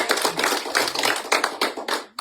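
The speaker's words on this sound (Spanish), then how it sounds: "Denle un aplauso al Señor." Congregation applauding during a church service, a dense, steady patter of many hands clapping close by, carrying on for about two seconds before cutting off abruptly.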